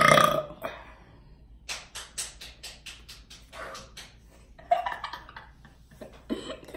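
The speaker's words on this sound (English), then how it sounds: "I want to make sure when I get a big burp, it's on you." A series of big deep burps and short belching grunts, loud and close, coming in quick uneven bursts with brief gaps, without talking.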